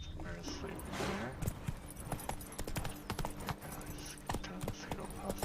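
Horse hooves clip-clop in a steady walking rhythm on the road in Witcher 3's Toussaint, close and clear over a busy ambient backdrop.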